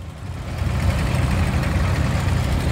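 Sonalika tractor engines rumble during an Independence Day tricolour rally, a loud, steady, low idling drone that swells slightly and then holds.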